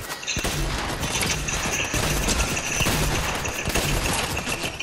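Rapid bursts of gunfire in the video game Fortnite, repeated shots crackling continuously and loudly over dense game sound with impacts mixed in.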